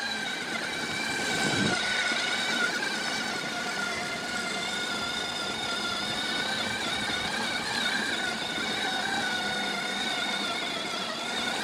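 A CYC X1 Pro Gen 2 e-bike motor pulls up a steep, long hill at low throttle, giving a steady, moderate mechanical whine with layered tonal harmonics and constant road and wind noise, without pauses.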